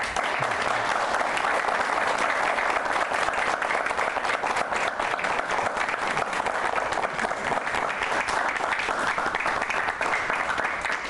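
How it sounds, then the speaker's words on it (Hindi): A studio audience gives steady, dense applause to actor Pankaj Tripathi at a televised interview. The clapping is sustained and even throughout, with a faint crowd murmur beneath it. "ये तालियों की गड़गड़ाहट बता रही है कि किस हद तक आप लोगों के दिल में उतर चुके हैं।"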